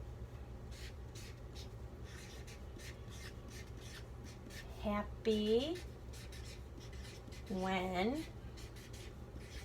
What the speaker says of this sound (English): Let me write that down before I forget.